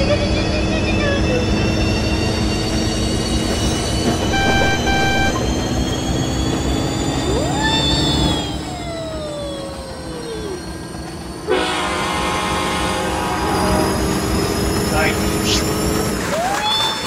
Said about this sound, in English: Let's do the Halloween train.